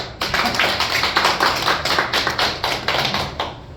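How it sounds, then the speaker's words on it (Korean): An audience at a Seoul education policy forum applauds with a run of brisk, evenly spaced claps that sound like a modest group, steady and fairly close for a few seconds with no voices. "박수."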